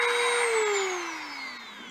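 A Dremel rotary tool cuts into a motorised bike frame tube, a high whining grind whose pitch slowly falls as the bit bogs into the metal, close and fairly loud for two seconds.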